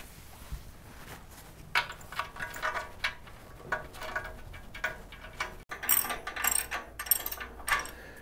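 Bolts are worked into a vintage Delta table saw with quiet ratcheting clicks in uneven bursts, close by and fairly faint.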